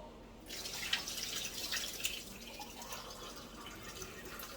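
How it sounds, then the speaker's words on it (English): Water from a pot of cooked shrimp is poured off into a sink, giving a steady splashing, trickling stream that runs close and continuously throughout. "I'm pouring this water off the shrimp."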